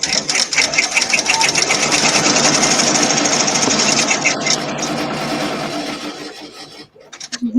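A home embroidery machine stitches a placement outline for a small piece of vinyl, its rapid rhythmic needle chatter loud and steady before slowing and stopping, with brief faint voices near the end.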